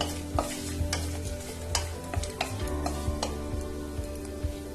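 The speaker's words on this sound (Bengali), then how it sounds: "ফোড়নটাকে 2 মিনিট একটু তেলের মধ্যে নাড়াচাড়া করে নেব।" A bay leaf, two dried red chillies and whole garam masala spices crackle in hot oil in a pan. A constant sizzle sits under frequent stirring clicks and scrapes, close and fairly loud.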